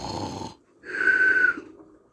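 A voice imitates snoring in a children's story, giving one long drawn-out snore: a breathy rasping inhale, a short pause, then a loud wheezing, whistling exhale, close and alone.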